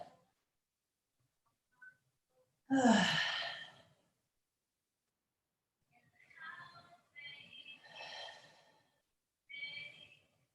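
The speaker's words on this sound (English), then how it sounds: "You try to slow your breathing" Slow, deep breathing during a yoga session: one loud, long exhale followed later by several softer, airy breaths, close and spaced apart in a quiet room.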